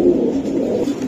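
A pigeon bought outside the local stock coos close by in one low, throaty, continuous warble, with no people talking.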